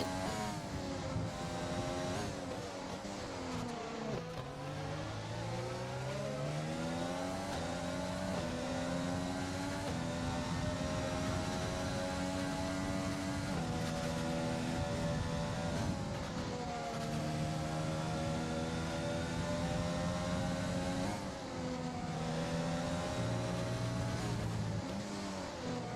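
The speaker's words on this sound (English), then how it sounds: "Yeah, the engine braking." Race car engines in a racing video game league race rise and fall in pitch as drivers shift down and engine-brake into corners, a continuous layered whine of several cars with no talk.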